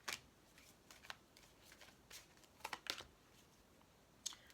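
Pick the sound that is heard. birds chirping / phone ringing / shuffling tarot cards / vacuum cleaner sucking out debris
shuffling tarot cards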